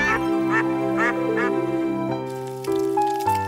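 Cartoon ducks from Oggy and the Cockroaches give about four loud, rhythmic quacks in a row, followed by a few brighter cartoon sound effects.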